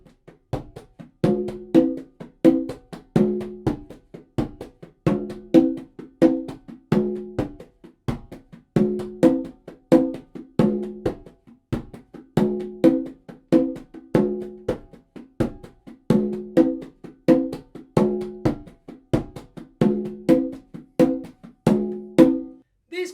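A hand drum plays a guaguancó rhythm built from combined paradiddles, sharp slaps and tones falling in a steady, repeating pattern at a slow, deliberate tempo, close and dry with no talking.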